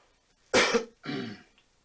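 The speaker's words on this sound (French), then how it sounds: "Pardon si je tousse." Two sharp coughs, one after the other, close and loud against near silence.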